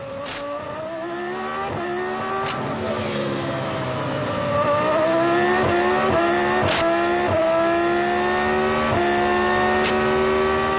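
Formula 1 race cars from 2003 at the Monaco Grand Prix, several high-revving engines sweeping past one after another with rising and falling pitch, loud and continuous, a street-circuit roar without commentary over it.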